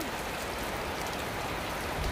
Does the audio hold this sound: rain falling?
yes